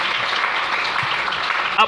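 A church congregation applauds the Lord, a dense steady clatter of many hands clapping together for a couple of seconds, with voices mixed in.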